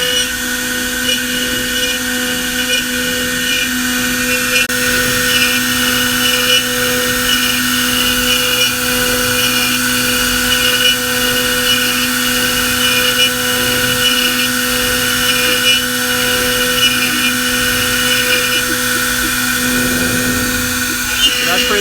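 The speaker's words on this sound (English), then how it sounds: "Spindle 3 is going to put insert pockets in the board" A CNC spindle cutting insert pockets into a custom wakeboard, a loud continuous high-pitched whine with steady tonal drone, unchanging throughout, with some background voices underneath.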